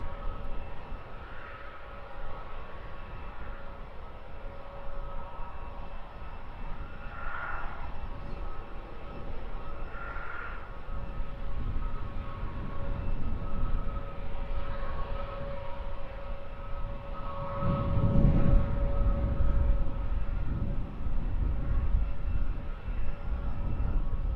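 A Ryanair Boeing 737 MAX 8 airliner prepares to depart for Vilnius, its engines producing a faint, steady distant whine and hum that grows into a louder roaring rumble toward the end.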